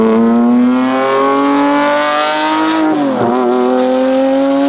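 A straight-piped Ferrari F50 hypercar engine revs loud and close, a steady high harmonic wail that dips sharply and climbs back, with no talking over it.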